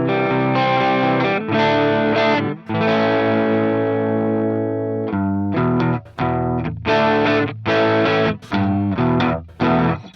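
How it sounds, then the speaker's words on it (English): Electric guitar played through an EQ pedal with the level pulled down, a cleaner tone with sustained chords followed by short choppy strummed bursts separated by brief gaps, with no talking. "if we kick in the EQ pedal with the volume lowered"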